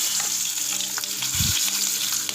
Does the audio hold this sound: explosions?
no